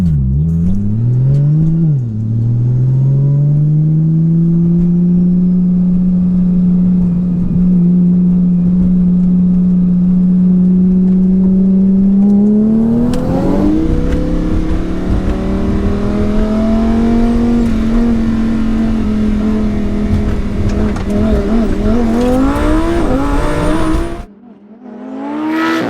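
Porsche 911 Turbo S with about 1200 hp and twin-turbo Lamborghini Huracan with about 1000 hp in a street roll race from about 40 mph in second gear, engines droning steadily then surging louder and higher as they accelerate hard, close and continuous.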